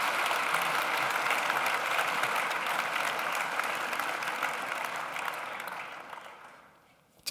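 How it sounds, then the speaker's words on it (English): Audience at a wine talk applauding Hugh Johnson and Jancis Robinson, a dense, sustained wash of clapping from many hands that stays loud, then tapers and fades out near the end. "I think they deserve a round of applause just to get us going."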